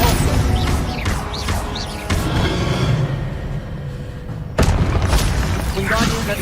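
A Repulso spell goes off in Hogwarts Legacy as a booming, forceful blast, with several loud impacts and crashes following one another in a busy, continuous stream of game effects.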